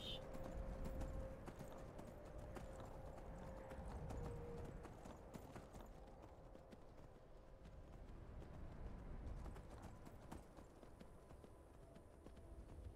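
Hooves of a horse ridden down a mountain in a video game clip-clop steadily as a constant rapid patter, with a brief whinny-like tone near the start and faint speech mixed underneath.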